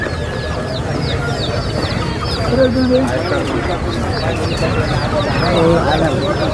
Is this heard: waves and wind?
no